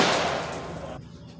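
A rifle shot at a 100-yard target, fired from an AR-15 or Tavor SAR bullpup with NATO ammunition, gives a single sharp report whose decay cuts off abruptly, heard alone.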